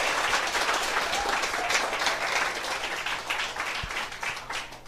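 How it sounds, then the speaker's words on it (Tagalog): Steady, dense applause from an audience fills the whole stretch, loud and continuous with no talking over it. "Alam nyo, dapat nilalakasan yung palakpak nyo."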